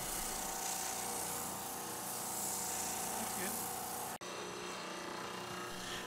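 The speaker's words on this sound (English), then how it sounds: "Now we've got to go back to the spindle sander. I need to smooth all of these edges" A spindle sander whirs steadily while smoothing and contouring the edges of a wooden table saw push block, a continuous high mechanical hum that cuts off abruptly near the end and then resumes.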